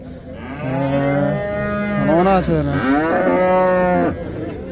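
A cow at the Rishton livestock market lets out one long, loud, close moo that rises and falls in pitch, with crowd murmur faintly behind it and someone speaking briefly.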